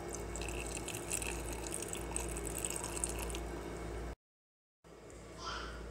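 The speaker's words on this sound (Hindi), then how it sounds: "और इसमें हम थोड़ा सा पानी ऐड करेंगे।" Water pours into a mixer jar with green chilies and salt for green chutney, a soft steady trickle that runs for a few seconds and then cuts off briefly, heard close with no talk.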